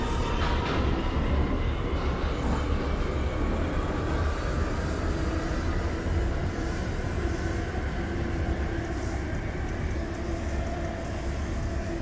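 An NYC Subway R179 train runs in the OpenBVE simulator, giving a continuous rumble with a steady whine of the motors and wheels on track, without a break.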